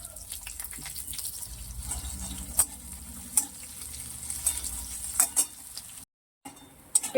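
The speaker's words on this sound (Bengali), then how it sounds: "পেঁয়াজটা একটু লাল করে ভেজে নিয়ে দিয়ে দেবো" Chopped onion fries in oil in a wok with a soft, continuous sizzle, broken by scattered spatula taps and scrapes as it is stirred. There is a brief silent gap near the end.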